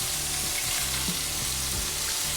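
Burger patties topped with cheese sizzle steadily in a hot pan, a dense continuous crackle with low rumbling pops, close and fairly loud, with no voices.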